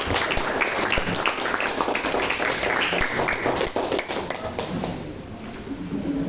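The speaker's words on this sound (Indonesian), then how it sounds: "Beri dong tepuk tangan semangatnya." A class applauds a presenting student group during a discussion lesson, with dense, lively clapping from many hands that continues strongly and then thins toward the end.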